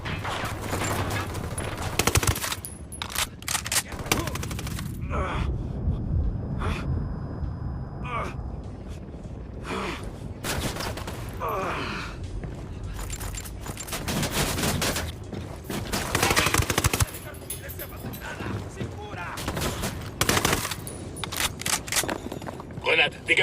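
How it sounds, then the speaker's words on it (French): Repeated bursts of gunfire from a Ghost Recon Wildlands firefight near a lab, with sharp cracks and rapid volleys scattered throughout, loud and close against a steady game background, with voices talking in places. "On se fait canarder depuis le labo."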